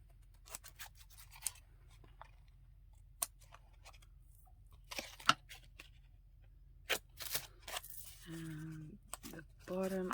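Scissors snip through a handmade paper bookmark, sporadic close crisp cuts and rustles of paper over a quiet background, with someone speaking near the end.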